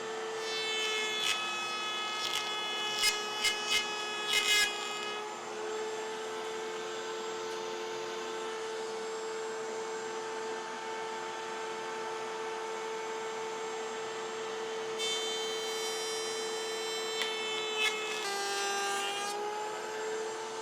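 Router table cutting wood for an antique stacking shelf, a steady whining motor hum with the cutter chewing through the board, punctuated by sharp chattering bursts of chips breaking off near the start and again toward the end.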